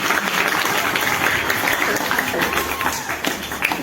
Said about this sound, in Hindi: तो उसके लिए ताली हो जाएगी क्या?